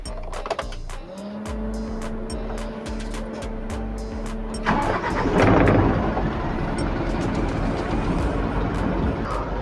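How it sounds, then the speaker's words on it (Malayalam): A car sitting in neutral on a slope, clutch held down, starts up: a low steady tone breaks into a louder, rough rumble midway and settles into a continuous engine hum. "ഇനി നമുക്ക് സ്റ്റാർട്ട് ചെയ്യാം."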